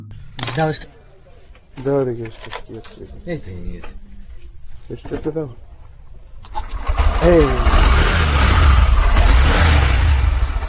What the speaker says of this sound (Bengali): এবারে আমরা এবার এই বাইকটা স্টার্ট দিয়ে দেখব স্টার্ট উঠলো কিনা